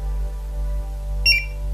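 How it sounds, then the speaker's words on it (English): A Draeger X-am gas detector gives a brief high beep during calibration, one short tone burst over a low steady hum in a quiet room. "Once you hear that beep and you see that all the sensors say OK"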